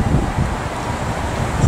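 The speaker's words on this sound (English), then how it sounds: "Windy." Blustery wind buffets the microphone in a continuous low rumble, loud and close, with no other sounds standing out.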